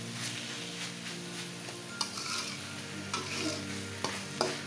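Mixed vegetables for a chicken spring roll filling sizzle in a pan under a continuous frying hiss, with a few clear spatula scrapes and clinks spaced through the stirring.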